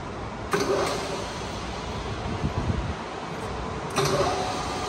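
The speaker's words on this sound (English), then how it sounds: "Working of spindle at its maximum speed, that is 1800 rpm." A Correa F2UE universal milling machine spindle runs at its top speed of 1800 rpm, giving a steady, loud mechanical hum with a few brief knocks or clicks partway through.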